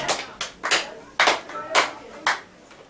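Grade 4 students in a classroom clap their hands in several short, sharp bursts, about seven distinct claps spaced irregularly, fairly close and moderately loud.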